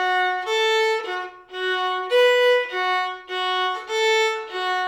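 Solo fiddle plays the opening measures of a jig, a clear bowed melody of distinct notes in a lilting rhythm, close and steady with no talking.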